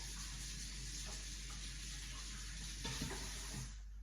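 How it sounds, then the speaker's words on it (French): Water runs steadily from a tap as a paintbrush is rinsed, a continuous soft hiss and splash that fades out near the end. "on va rincer le pinceau"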